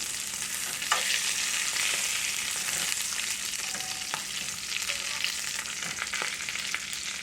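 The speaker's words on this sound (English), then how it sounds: "I got my sausage in the pan. It's cooking away." Sausage cooking in a pan over medium-low heat gives a steady, close hiss of sizzling fat. Faint pops and small crackles break through now and then, with no talking.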